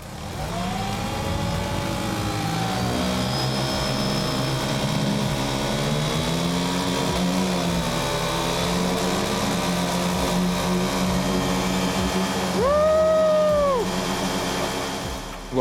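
Quad engines from an electric BRP Outlander and a gas XMR 1000 straining in a tug of war: a steady, loud engine hum with rising and falling revs and a brief high whine near the end.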